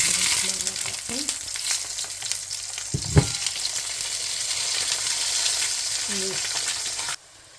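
Chopped onions frying in a pan for a home-cooked bhindi masala, a steady close sizzle with crackles and a brief stir-like clatter, running alone until it cuts off near the end.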